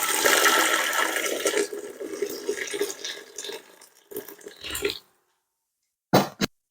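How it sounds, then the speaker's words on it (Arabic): Boiling hot water poured over fried onions, crushed garlic, cinnamon, bay leaves, cardamom and chili in a pot for chicken mandi, a loud steady gush lasting about five seconds, then a brief splash after a pause. "نزل حاليا عليه المي الحار المغلي"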